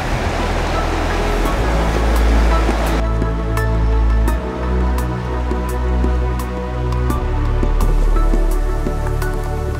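Steady rushing surf on a beach in Asturias, Spain, with waves washing and breaking continuously. A few faint clicks and taps are scattered through it, and no voices are heard.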